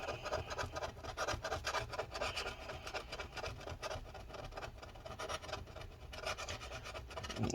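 Foamy adhesive is scraped off the battery of a 2012 15-inch MacBook Pro A1398, a continuous close rasping and scratching with quick repeated strokes at a steady, fairly quiet level.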